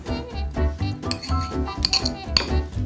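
Room-temperature cheese mixture being mixed in a bowl, a utensil clinking and scraping against the dish in a quick, repeated rhythm, close and fairly loud.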